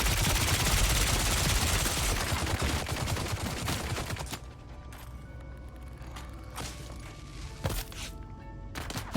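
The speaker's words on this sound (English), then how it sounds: "That wasn't killing them with this SMG." SMG fire in a video game: dense bursts of rapid shots at first, then thinning out into scattered single cracks and mechanical clicks against a quieter background.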